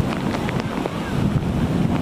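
Strong wind from Typhoon Paolo buffets the microphone in gusts, giving a rough, roaring rush of air with uneven surges across the whole short stretch.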